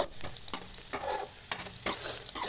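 Onions sauté in a pan for a Tamil murungai keerai podi rice dish, a close crackling sizzle marked by several sharp spatula scrapes and stirs, with no voices.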